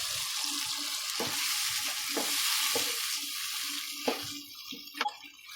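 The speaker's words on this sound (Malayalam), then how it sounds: "ഈ ഗ്രേവി ഒന്ന് തിളപ്പിക്കാം നമുക്ക്." Chicken stock poured into a chicken pasta gravy bubbles and sizzles in a pan, a steady hiss punctuated by several stirring scrapes and a couple of sharper clinks near the end.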